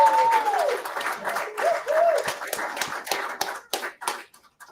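Round of applause at a school district board meeting, scattered individual hand claps that thin out and stop, with a voice calling out over the start.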